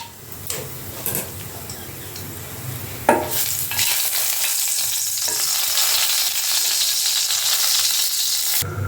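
Whole cumin seeds and dried red chilies hit hot oil and burst into a loud, dense sizzle after a few clicks and knocks of a utensil, then crackle on steadily, close by.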